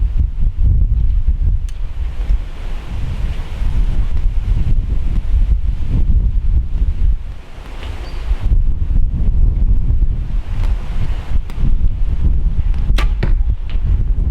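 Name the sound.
wind blowing outdoors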